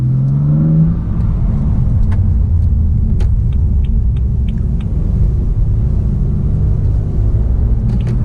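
A used BMW M3 with a scraped underside gives off a steady, loud low engine and exhaust rumble at idle or cruise, continuous throughout with a brief rising tone near the start.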